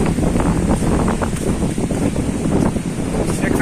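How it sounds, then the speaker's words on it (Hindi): Strong storm wind blows steadily through a village, a loud continuous roaring rush with gusty swells, with someone talking over it. "बहुत तेज हवा चल रहा है दोस्तों अभी, बहुत ही ज्यादा तेज हवा चल रहा है यहाँ पर।"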